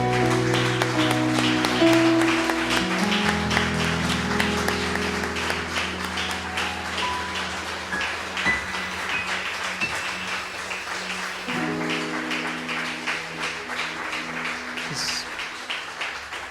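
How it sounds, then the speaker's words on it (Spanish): Church congregation applauding at the close of a service, broad clapping running under sustained organ or keyboard chords and a singing voice, fairly loud and steady throughout. "Damos un fuerte aplauso a Él"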